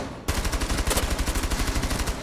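Automatic gunfire in Rainbow Six Siege: a rapid, loud burst of evenly spaced shots starting abruptly after a brief quiet moment and continuing steadily to the end.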